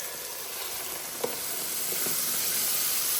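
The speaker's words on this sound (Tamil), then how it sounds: "இப்போ நம்ம தக்காளி அரைச்சி வச்ச தக்காளி இதில் ஊற்றிடலாம்." Ground tomato poured into a hot pan with turmeric and spices to make tomato pickle sets off a continuous close sizzle and hiss, with a few small pops and stirring clinks over the bubbling.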